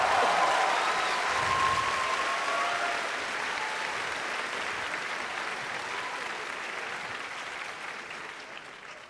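A large audience of about 4,000 people applauds and cheers, a loud wash of clapping that slowly fades over several seconds.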